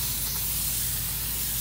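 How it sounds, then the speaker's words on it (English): Brake cleaner sprays in one steady, close hiss onto a new front brake rotor of a 2000 Saturn S-series coupe. The rotor still carries its shipping oil, and nobody speaks. "Gonna spray it down with some brake cleaner."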